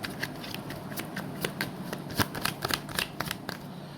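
A deck of tarot cards is shuffled close by, a quick continuous patter of sliding, flicking card clicks with a few sharper snaps, and no speech.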